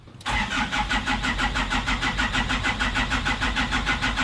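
A CJ7 Jeep engine cranks and catches after a brief silence, then settles into a steady, loud, rhythmic idle heard up close.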